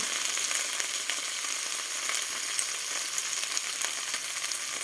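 Kale and crispy pork stir-frying with oyster sauce in a hot pan, a steady close sizzle and crackle running the whole way with faint stirring scrapes and no talk.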